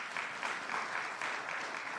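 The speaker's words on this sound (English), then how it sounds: "You can give her a round of applause." Steady applause from a crowd, a dense continuous patter of clapping with no voices standing out.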